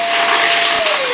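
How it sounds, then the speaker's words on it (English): A vacuum hose pushed down inside a household dryer vent roars steadily with broadband hiss, and a brief rattling clatter near the end suggests a coin being sucked up through the hose. "as you can hear right there, I picked up probably a coin or something like that that was also down inside of there"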